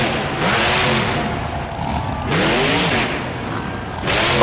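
A monster truck in the BeamNG.Drive game roars through a Monster Jam freestyle run in Anaheim, its engine surging and dipping in loud waves as the throttle is stomped and eased, with tires scrubbing between revs.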